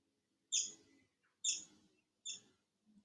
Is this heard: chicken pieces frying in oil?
no